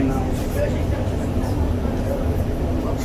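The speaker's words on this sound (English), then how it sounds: "I'm driving the train now." An REM light metro train runs in Montreal, heard from the driver's cab as a steady, rumbling roll of wheels and motors that holds even throughout.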